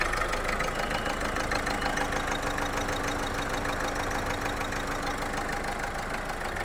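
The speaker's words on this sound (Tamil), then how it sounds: "இப்போ வண்டி ஐடிங்கில் தான் ஓடுது." A used car engine idles with noticeable vibration, a faint, even, continuous running drone heard alone without speech.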